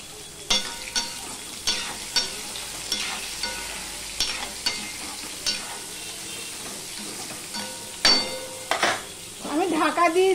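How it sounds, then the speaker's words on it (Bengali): Teasel gourd (kakrol) fries in a covered pan with salt and turmeric, giving a steady low sizzle broken by repeated stirring scrapes and clatters, with a louder burst of sizzling and pan handling near the end. "আমি ঢাকা দিয়ে কাঁকরোলটা ভাজবো।"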